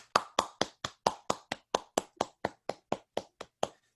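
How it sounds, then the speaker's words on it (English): Sparse audience applause at a Lions diabetes awareness session: about sixteen evenly spaced, crisp hand claps in a steady rhythm, fairly near, with nothing else heard. "Give Lion Dr. Shafi a round of applause"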